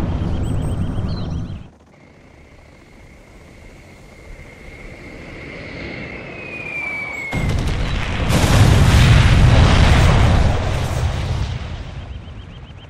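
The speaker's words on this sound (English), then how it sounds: "We have launched our nuclear missile." A nuclear missile from Command & Conquer: Generals Zero Hour whistles in with a rising tone, then a massive booming explosion rumbles loudly and lingers, game-style sound effects with no talking.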